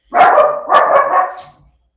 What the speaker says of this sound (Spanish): Perdone que mi perro...